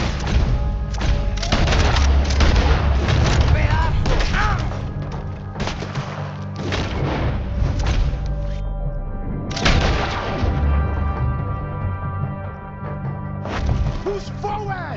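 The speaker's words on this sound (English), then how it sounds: "There's another set of cannons up ahead!" Cannons fire in Red Dead Redemption 2 during a story mission to rescue a captain. Heavy booms and thuds repeat through a dense battle din, with voices shouting over them.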